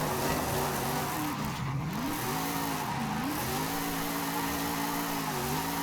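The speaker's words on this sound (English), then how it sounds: "Like in 5th, I'm redlining it and it's like not pulling anywhere." Drift car engine in Forza Horizon held near redline in fifth gear, a loud continuous droning whine that dips and climbs in pitch as the car slides, with no talk over it.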